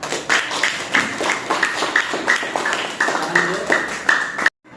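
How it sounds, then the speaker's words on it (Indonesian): A small group claps in a classroom after an Archimedes' principle demonstration, with an uneven rhythm of separate claps and voices mixed in, ending abruptly. "Tepuk tangan buat Raisa."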